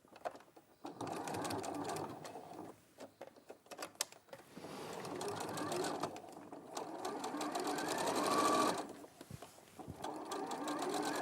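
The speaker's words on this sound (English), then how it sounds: "I'm just going to sew this fold of a piece down." A sewing machine stitching down a fold of fabric runs in long steady bursts of rapid mechanical chatter, close and loud, with short pauses between runs and faint talk in the background.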